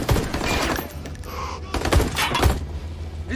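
Several sharp gunshots crack out in a busy, dense mix, with sporadic impacts and background noise throughout.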